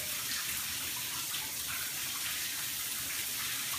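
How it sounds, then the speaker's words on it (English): Shower water running into a bath, a steady broadband hiss and splash that stays constant and fairly close throughout with no pauses. "Do you like the shower?"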